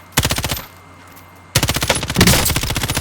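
M13 rifle fire in Call of Duty Warzone, two loud rapid automatic bursts of about eight shots each, separated by a second of quiet, close and punchy.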